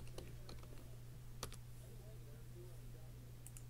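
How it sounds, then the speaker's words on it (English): Someone types on a computer keyboard in a quiet room. Soft, irregular key clicks come in short bursts, with one firmer tap near the middle, all over a low steady hum. "I'm going to type live."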